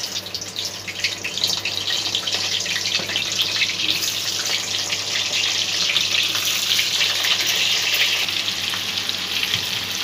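Pointed gourd (potol) dropped into smoking-hot oil in a wok sizzles loudly and steadily for the whole stretch, a dense crackling hiss with no voices.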